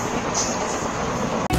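The Dooars Express, an Alipurduar Junction intercity train, rumbles along in a steady, loud broadband roar from inside the coach, with a brief dropout near the end.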